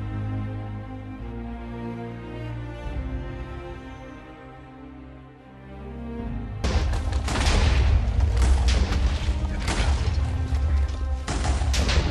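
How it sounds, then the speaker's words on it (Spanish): A cannon fires during a prolonged siege in the Paraguayan War: a sudden loud boom breaks in over background music, followed by a heavy, sustained rumble. "El segundo cañonazo."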